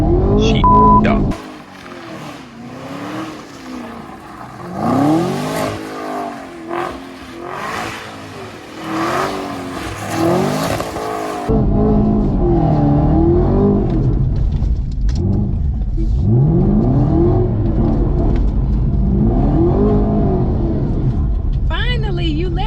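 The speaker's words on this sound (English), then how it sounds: "Finally, you let me get in the car when you do donuts." A Chevrolet Camaro ZL1 spins donuts, its engine revving and rumbling loudly in repeated swells as the tires shred, with people talking over the noise throughout.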